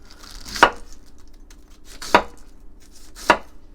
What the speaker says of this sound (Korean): 짧은 애들은 짧은 애들끼리 해서 채를 썰어서